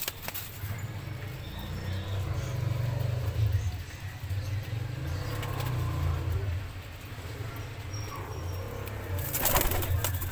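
Breeder pairs of pigeons coo in a low, repeated murmuring rumble, close and steady throughout, with faint outdoor background noise and a brief flutter or clatter near the end.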